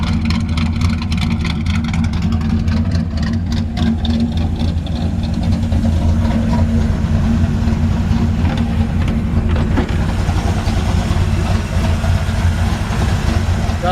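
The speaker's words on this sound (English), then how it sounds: "Got about 400 miles on the new engine. Really clean. You can hear how smooth it is." A 1951 Ford F-1 pickup with a new engine, about 400 miles on it, idles loud and close with a smooth, steady low rumble that holds evenly throughout.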